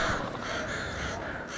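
A crow caws in the horror video game Alan Wake 2, a single harsh call heard over a dense, muffled game ambience with no talking.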